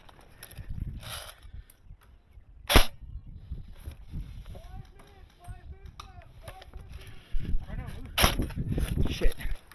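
Gunfire during an airsoft game on a barrels and cubicles field, with sharp isolated shots standing out among scattered movement, voices and background noise.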